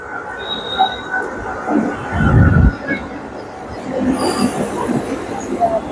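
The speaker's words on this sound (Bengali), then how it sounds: "এই যে আমাদের ট্রেন ধরে দেখো ঢুকছে।" An EMU passenger train on the Howrah line pulls into a West Bengal station near Bolpur, its rumbling wheels and a loud burst of rail noise rising mid-way, with faint metallic squeals over the steady roll.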